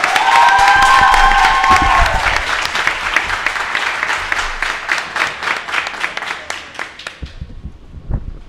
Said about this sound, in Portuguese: Vamos aplaudir o nosso guerreiro, o Arley Alves.